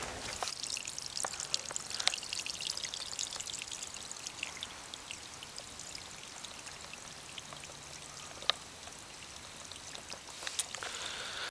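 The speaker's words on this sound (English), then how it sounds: "So it looks like I found a little passageway of water." Small stream of water trickling and splashing in a narrow passage outdoors, a faint steady babble with scattered clicks and drips, no talking.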